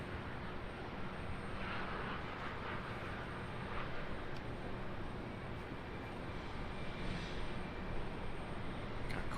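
Airplane departing Raleigh Durham airport, a steady broad roar of jet engine noise holding at constant loudness throughout, heard from a distance with no voices.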